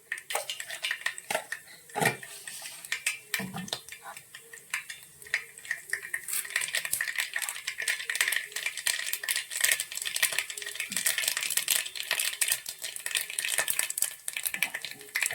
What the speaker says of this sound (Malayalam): എണ്ണ ചൂടായിട്ടുണ്ട്. അപ്പോൾ നമുക്കതിലേക്ക് കടുകിടാം.